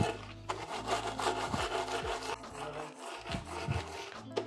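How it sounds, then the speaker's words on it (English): A rolling pin crushes Oreo cookies inside a bag into a coarse powder, giving repeated gritty grinding and rubbing strokes with crackling crumbs, close and moderately loud, no talking. "with the rolling pin, all you do is try and crush it into a powder"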